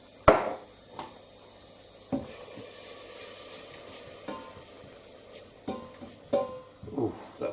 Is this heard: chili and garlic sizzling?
yes